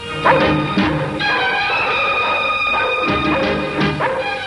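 Big dogs bark several times in a film scene, sharp loud barks coming in clusters at the start and near the end over a sustained tonal background.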